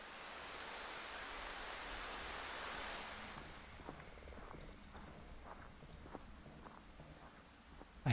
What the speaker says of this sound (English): I hear a footstep.